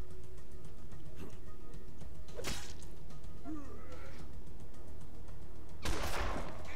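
Gunfire in a first-person shooter game comes as a few sharp, loud shots spread over several seconds, the last one the heaviest, set against a steady low background hum.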